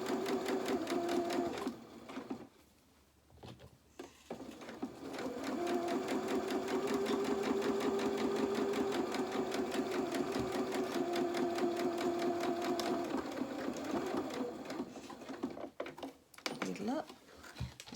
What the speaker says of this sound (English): I'm just going to sew straight across the bottom, taking the pins out as I go.